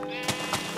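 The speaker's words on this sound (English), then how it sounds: "Oh, it's a sheep." A sheep in the video game Minecraft gives a short, clear bleat, heard close and at moderate volume.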